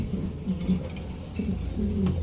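A pair of Mundian pigeons coo in a few low, soft, repeated calls close by, with no talking.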